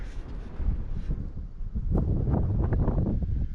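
Strong wind gusts across a microphone on a high Appalachian Trail overlook above lakes, a steady low roar that swells louder in the second half, with no talking.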